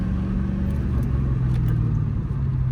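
A manual car's engine pulls in second gear with a steady low rumbling drone, heard from inside the cabin, close and even throughout with no voices.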